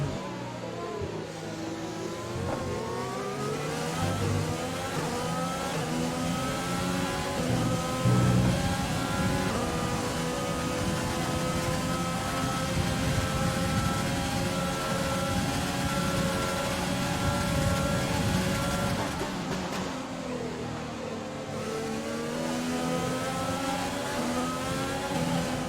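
F1 race car engine in the F1 2020 racing game, loud and continuous, revving and rising in pitch through the gears with repeated upshift sweeps, alone without talk.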